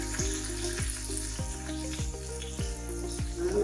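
Curry leaves and cumin hit hot oil in a pan for beetroot palya, giving a loud, steady sizzle with a series of sharp crackling pops spaced through the moment, no talking over it.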